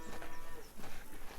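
Cows moo in the farming game Farmer's Dynasty, a few low, drawn-out calls rising and falling over soft farmyard background, fairly quiet with no talk.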